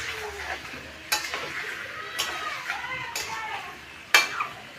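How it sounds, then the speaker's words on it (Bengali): Chicken drumsticks sautéing in a pan give off a steady close sizzle. Sharp clinks of a stirring spoon against the pan recur about once a second over it. "দিয়ে এবার এটাকে কষানো হবে।"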